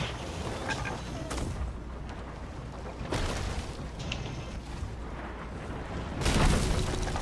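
Ship cannons fire in the video game Sea of Thieves as a few loud, sharp booms spaced seconds apart, the last one heaviest, over a constant rumbling wash of sea and game noise, with no talking.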